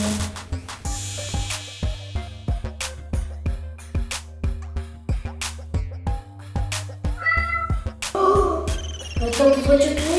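A cat meows in a cartoonish game scene, several short cries sounding near and clear over a regular ticking, rhythmic backdrop with shifting tones toward the end.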